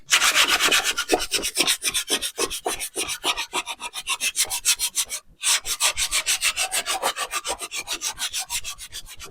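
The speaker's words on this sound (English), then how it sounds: "then we will sand it and then see what it looks like" Close, rhythmic back-and-forth sanding strokes on a painted thrift store furniture piece, a steady rasping scrape with one short pause midway before the strokes resume at the same pace.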